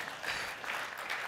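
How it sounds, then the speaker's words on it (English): A short burst of audience applause at a business conference fireside chat, distant and fairly faint, pulsing gently with no speech over it. "Can we get a round of applause for that?"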